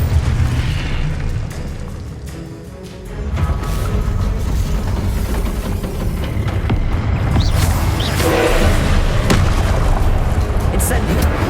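Booming blasts from the Confringo explosive spell in Hogwarts Legacy, loud low rumbling bursts that run nearly continuously across the stretch, with a voice casting spells over the din.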